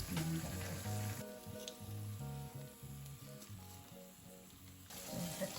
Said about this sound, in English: You fry it when it's crispy on the top, till it's crispy on the top.